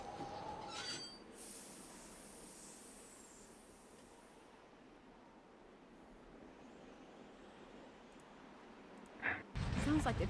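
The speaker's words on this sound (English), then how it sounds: "Sounds like the train's leaving." A train pulls out of a station in the Nancy Drew game Secret of the Old Clock, a steady rolling rumble and hiss that carries on evenly, closing with a short rattling clatter.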